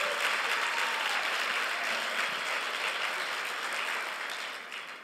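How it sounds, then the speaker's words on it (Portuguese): A church congregation breaks into continuous applause, a dense, even wash of clapping from many hands that holds steady and fades toward the close. "Pode aplaudir o Senhor."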